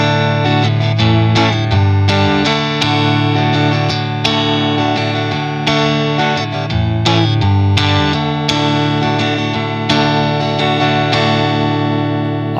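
An electric guitar with distortion and effects strums three open major chords at full speed in a steady, driving rhythm, loud and close, with no voices.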